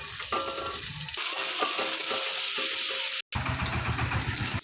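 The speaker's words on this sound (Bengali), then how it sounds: "তেল গরম হয়ে গেছে, পেঁয়াজটা দিয়ে দিচ্ছি।" Sliced onions frying in hot oil in a kadhai for biryani beresta, a loud continuous close sizzle with a short break, then the hiss resumes with stirring clatter.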